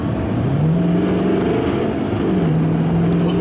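A tuned L5P Duramax diesel truck accelerates at full throttle from about 40 mph, its engine droning loud and steady from inside the cab, the pitch rising, dipping briefly at a shift, then climbing again.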